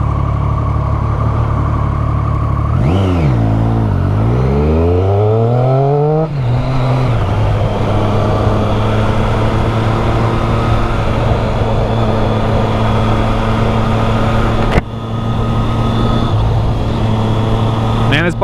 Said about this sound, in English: Man, this bike sounds so good.